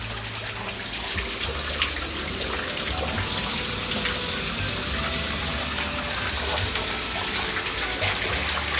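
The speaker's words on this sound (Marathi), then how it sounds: "पाणी टाकलंय आपण." Water poured into a cooking pot at a campsite for tea and noodles, a steady rushing gush running continuously, close and moderately loud, with no voices.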